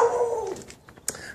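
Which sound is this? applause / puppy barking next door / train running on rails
puppy barking next door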